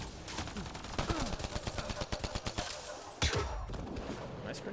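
Rapid bursts of gunfire from the sci-fi shooter game Mass Effect: Andromeda crackle in quick, regular volleys, then a heavier blast near the end, with a voice talking faintly underneath.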